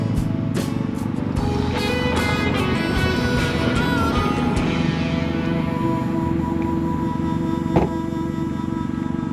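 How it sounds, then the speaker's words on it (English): A generator runs steadily at a campsite in the Ozarks, a constant droning hum with a steady tonal whine and some passing noise on top, loud and close throughout. "I don't know if you can hear that generator in the background"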